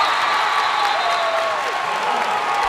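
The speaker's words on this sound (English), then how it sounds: "the crowd is loving it" A loud, sustained roar of cheering and applause fills a gym at a WPIAL boys' high school basketball quarterfinal as the home crowd reacts to a go-ahead free throw, with a broadcaster's voice faintly running underneath.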